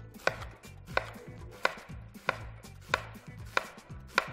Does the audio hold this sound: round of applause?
no